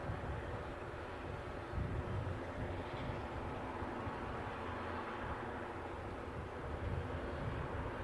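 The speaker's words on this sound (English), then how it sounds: "With the Saab 340." A Saab 340 turboprop at Aberdeen airport gives a steady, distant, faint drone of engine noise that carries on throughout. No one speaks.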